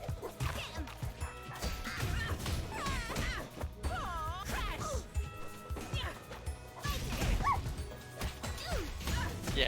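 A dog character in the fighting game Them's Fightin' Herds barks and yips repeatedly, with sharp smacks and crashes from the fight in between.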